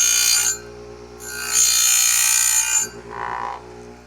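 Oregon 620-120 chain grinder with a CBN wheel lightly skimming the cutting edges of a chainsaw chain: two loud, bright grinding passes with a pause between, then a softer, duller touch at the end.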